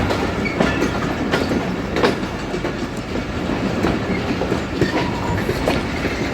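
A Shaheen Passenger train on the rail line between Sialkot and Wazirabad in Pakistan rumbles loudly and steadily, with regular wheel clicks over the track joints and no voices.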